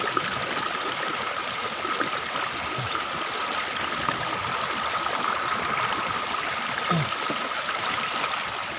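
Shallow water flows steadily over a stream bed in rice paddy fields where fish are being caught, a continuous close trickling and gurgling rush with no voices.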